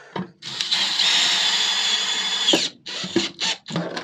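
A power drill drives small screws back into a van's stripped interior panel, whirring steadily for about two seconds and then giving several short bursts, close and loud, with no talking.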